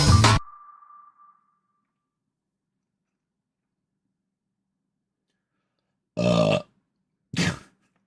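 A single loud, low burp opens the moment and is followed by a fading ringing tone, then long silence broken by two short, dull bursts.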